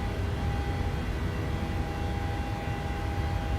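Steady, loud broadband roar of a PMDG Boeing 737-800 climbing out of Dubai in Microsoft Flight Simulator, a constant engine rumble with a faint tonal whine and no talking.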